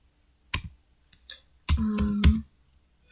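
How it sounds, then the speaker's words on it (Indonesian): Keys clacking on a computer keyboard while a command is entered in a terminal: a single sharp keystroke, then a tight cluster of three louder, quicker clicks with a low hum underneath, close and fairly quiet. "Ketikkan node dulu."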